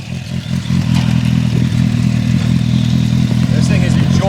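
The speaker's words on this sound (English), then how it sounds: "the exhaust note is intoxicating" A 2002 Suzuki GSF 1200 Bandit streetfighter motorcycle idles and burbles steadily with a deep, throaty exhaust note, while someone talks over it.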